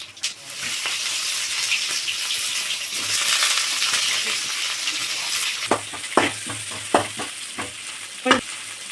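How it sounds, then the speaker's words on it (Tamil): Cumin, fennel and pepper tempering in hot oil for a homemade chicken gravy: a steady close sizzle, then a run of sharp spoon-on-pan clinks and scrapes as the spices are stirred. "தாளிக்கிறதுக்கு இதை போட்டுக்கணும்ப்பா."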